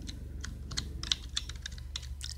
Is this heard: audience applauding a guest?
no